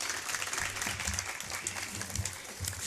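Audience applause at a Ramadan stage event in a hall, a steady patter of many clapping hands that holds at an even level throughout with no voices over it.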